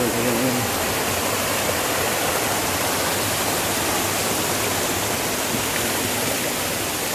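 Loud, steady roar of rushing water at Hidden Falls, a dense continuous wash with no breaks, close and filling the whole scene.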